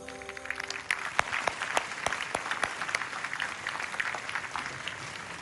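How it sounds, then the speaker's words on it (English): Audience applause at the 2024 Zayed Award for Human Fraternity ceremony, steady, moderately distant clapping from a large hall crowd, with sharp individual claps standing out and no speech over it. "Let's have another round of applause"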